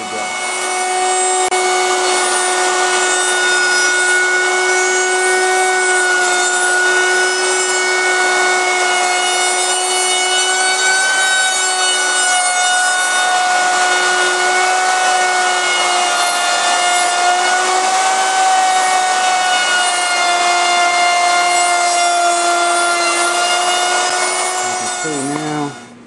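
A router fitted with a bearing-guided roundover bit cuts along the wooden edge of a bi-fold door, a loud steady whine with strong tonal harmonics running unbroken for about 26 seconds before cutting off.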